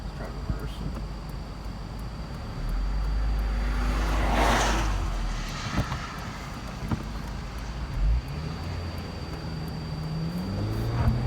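A 2007 Honda Civic Si engine idles and pulls while reversing, a steady low hum rising briefly with a whooshing pass midway, heard from inside the car alongside faint cabin noise.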